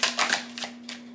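Tarot cards are drawn from a deck in a few quick, close papery slides and flicks. A faint steady hum runs underneath.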